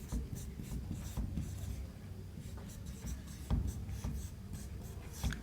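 A pen writing out an equation for a quadratic-equation math lesson, a close continuous scratching and rubbing of strokes on paper or board in short rhythmic bursts, fairly faint and with no talk.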